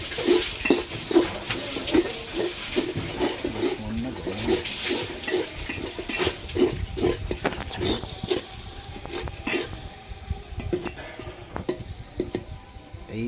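Garlic frying with mutton in a pan, with a continuous sizzle under busy stirring, scraping and clattering of a utensil against the pan, close and fairly loud, no voices.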